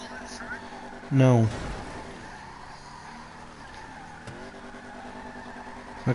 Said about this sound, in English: My car's fucking slow.